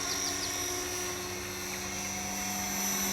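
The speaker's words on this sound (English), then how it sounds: "So if I fly flat out forward there, the more I push that lever forward, the more the heli leans forward" Align T-Rex 470LP RC helicopter flying flat out forward, its rotor and motor making a steady, continuous high-pitched whine with a constant drone that does not let up.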